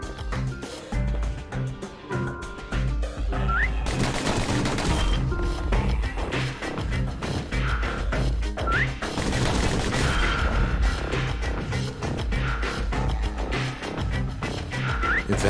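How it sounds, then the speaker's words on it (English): Customized pistols fire in the video game Bastion, with repeated sharp gunshots and crashing impacts layered over a dense game soundtrack, loud and continuous. "The Slingers like to edge each other out using customized pistols."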